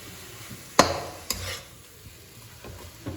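A spoon stirs melting jaggery with grated coconut in a pan for Poush Sankranti pitha, giving soft scraping under a faint sizzle, with two sharp clanks of the utensil early on and lighter knocks later.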